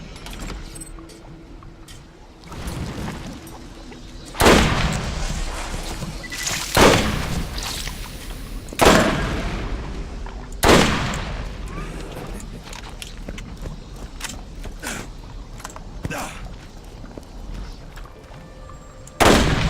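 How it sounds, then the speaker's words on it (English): Cobra assault cannon firing in the Borderlands shooter game, with several loud, sharp blasts spaced a couple of seconds apart over a busy background of game sounds and faint clatter. "Cobra assault cannon. State-of-the-art bang bang."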